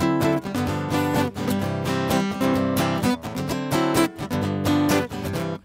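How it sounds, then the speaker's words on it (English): A Hawaiian music vamp, a dense, rhythmic strummed-string pattern played continuously with a bouncy, steady pulse, full and close, with no voices. "the vamp sort of sounds like this."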